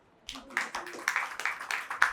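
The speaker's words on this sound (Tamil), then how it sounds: "கைத்தட்டுங்க எல்லாரும் ஆண்டவருக்கு." Church congregation clapping hands during a sermon, a quick run of sharp claps that starts after a short pause and stays moderately loud, with a voice faintly underneath.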